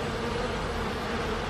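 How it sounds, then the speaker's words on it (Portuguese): Giant cartoon bees give off a continuous, dense buzzing drone, loud and steady throughout the short stretch with no voices over it. "elas não passam de pequenas abelhas"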